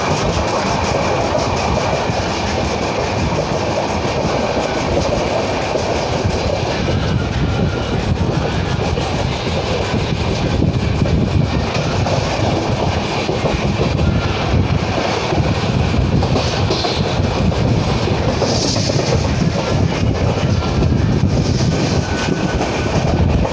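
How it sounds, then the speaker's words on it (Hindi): A Howrah–Sai Nagar express passenger train in India runs at speed, with a loud, steady roar of wheels and a continuous clickety-clack over the rails throughout. "हमारा ट्रेन है, यहाँ से रफ्तार पकड़ ली।"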